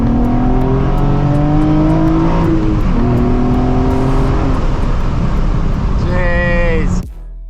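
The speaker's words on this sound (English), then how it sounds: "Can't leave without an acceleration." A rear-wheel-drive sports car on a rainy day holds a steady engine drone with some voice over it, then revs climb sharply just before the sound cuts off abruptly.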